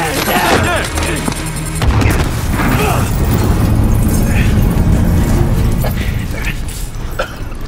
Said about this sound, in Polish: Bomba wybuchła!